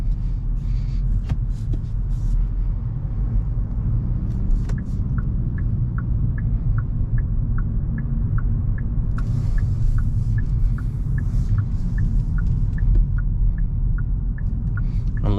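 A 2024 Hyundai Elantra cruises on a highway in sport mode, with a steady low engine and road rumble filling the cabin, broad tire noise, and a faint repeating ticking chime partway through.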